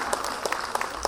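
An audience at a KPMS Women's Day event applauds a retired SP named Jagadish, producing a steady wash of clapping with sharper individual claps popping through, sustained and moderately distant throughout.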